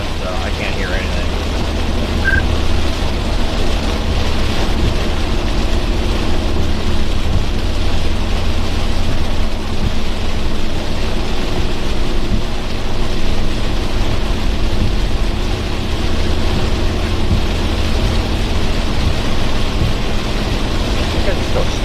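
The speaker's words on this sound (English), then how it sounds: "It's so loud here with this rain." Heavy rain from Tropical Storm Debby pours down loudly and steadily throughout, a dense roar with low rumbling underneath, while people talk over it.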